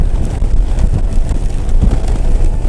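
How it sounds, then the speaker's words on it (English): Steady wind buffeting on a Honda Goldwing motorcycle riding through a snow and ice storm near Mt Rainier, a constant loud roar with gusty surges throughout. "I'm getting some pretty good gusts of winds"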